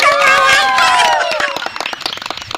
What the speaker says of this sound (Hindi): बढ़िया जोरदार ताली